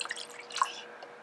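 Water added to a small paint cup while diluting paint for weathering a Black Series Jumptrooper action figure: a few soft, close drips and light plinks, quiet, with a brighter drop near the middle.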